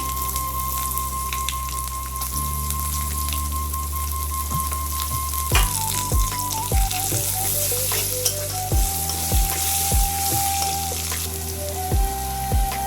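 Chopped ginger and garlic hit hot oil in a frying pan, a steady loud sizzle with bursts of crackling and the scrape of stirring, close and continuous with no talk.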